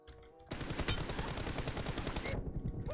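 Rapid automatic gunfire in PUBG Mobile during a versus match, a loud continuous burst of shots lasting about two seconds, then trailing off into quieter game ambience.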